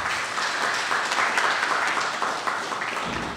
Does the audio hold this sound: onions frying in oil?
no